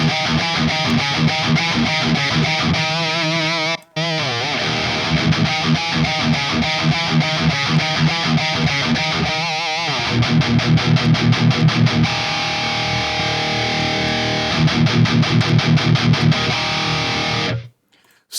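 Heavily distorted electric guitar plays chugging riffs and sustained chords through an STL Tones Tone-Up amp profiler, with a brief cut near the start and an abrupt stop at the end.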